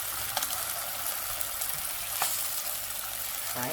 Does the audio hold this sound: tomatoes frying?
yes